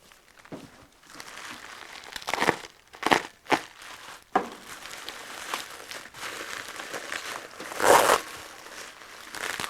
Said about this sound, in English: All I need is to cut this open.